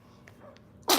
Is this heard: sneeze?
yes